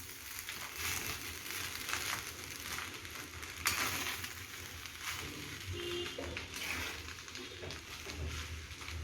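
Schezwan fried rice with spring onion greens being stirred in a pan, a soft continuous sizzle under light scraping and tossing, with one brief sharp clink partway through.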